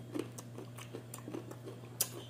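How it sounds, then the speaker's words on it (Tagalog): Someone bites into a crisp, crunchy green mango and keeps chewing, producing a quiet series of small, regular crunches close up with no talk. "Unang kagat."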